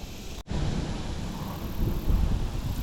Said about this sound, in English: the wind is definitely starting to pick up a bit